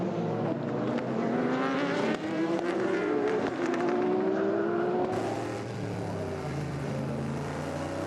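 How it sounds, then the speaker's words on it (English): Onboard engine of the number 73 Chevrolet Corvette race car on the warm-up lap at Le Mans, a loud continuous roar climbing through the revs and shifting gears, then settling into a lower drone. "On board the 73 Chevrolet as the cars are on their warm-up lap."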